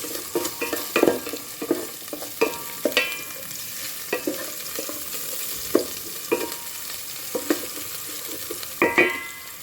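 Kangkong and fish stir-fry in a hot pan, a steady sizzle broken by repeated sharp scraping clacks of a spatula at uneven intervals, close and fairly loud, with no speech.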